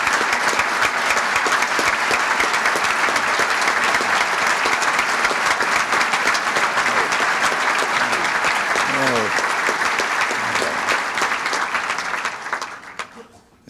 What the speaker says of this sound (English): so that we could give them a round of applause for what they've done,